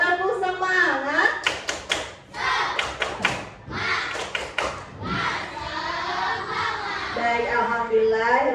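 Children in a classroom perform a rhythmic clapping chant, their voices singing and calling between sharp patterned claps and thumps, close and lively.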